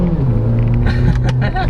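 A 2014 Honda Accord 2.4S sedan with a CVT pulls hard at full throttle, its engine a loud steady droning rumble with a slowly rising tone heard from inside the cabin, with faint voice-like sounds mixed in.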